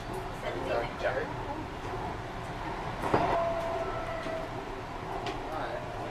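A Vancouver SkyTrain metro train running, a steady rumble of rolling wheels with a brief squeal midway, heard from inside the car while people talk.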